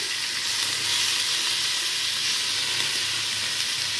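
Meat sautéing in its own fat in a pan, a dense, even sizzle and hiss held close and steady throughout, no talking.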